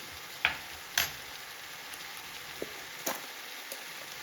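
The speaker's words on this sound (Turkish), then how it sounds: "Bunları güzelce bir kavuralım." Spices and rice sautéing in a pan for chicken pilaf, a faint steady sizzle broken by a few soft clicks and stirring taps, quiet and close.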